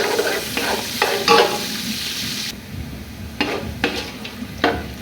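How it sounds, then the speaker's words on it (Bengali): Onions browning in a pan, a steady sizzle with repeated scraping strokes of a stirring spoon, close and fairly loud; the frying softens partway through while the stirring scrapes continue. "আমি পেঁয়াজগুলো হচ্ছে হালকা ব্রাউন করে নেব।"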